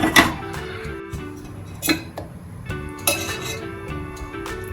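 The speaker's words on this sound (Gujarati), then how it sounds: "બાઉલ મૂકીશું" A metal bowl set down on a gas stove for tempering ridge gourd curry, giving a few sharp clinks and clatters of metal on the burner grate at close range, with no talking.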